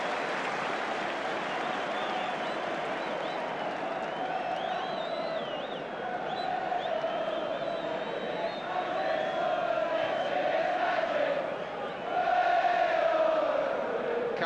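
A large football stadium crowd applauds and murmurs in a sustained, broad wash of sound after a goalkeeper's catch, swelling slightly near the end.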